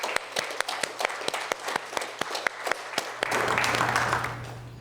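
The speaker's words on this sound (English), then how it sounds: "So just a round of applause for everyone." Applause at the MIT NEET certificate conferment ceremony, starting with a few distinct, evenly spaced claps close by before a fuller wash of audience clapping swells in and holds.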